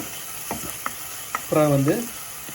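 Chopped tomatoes frying in a pan for potato rasam, with a few light clinks of a spoon followed by a brief scraping stir and a tonal squeak, close and moderately loud.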